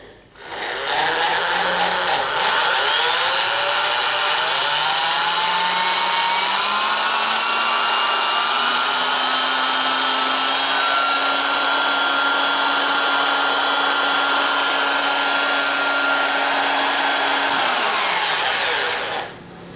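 A homemade electric motorcycle charger, fed from a solar panel setup, is switched on and runs alone as a loud, steady whirring hum with a rising whine that settles into a constant drone for about fifteen seconds, then cuts off.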